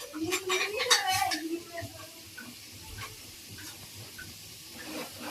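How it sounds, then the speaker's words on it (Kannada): Onions sizzle and hiss as they fry in a pan for chicken sambar, a soft steady crackle running beneath a person talking. "ಈರುಳ್ಳಿನ ಈಗ ಪೂರ್ತಿ ಕಲರ್ ಚೇಂಜ್ ಆಗೋ ಥರ ಹುರ್ಕೊತಾ ಇದ್ದೀನಿ"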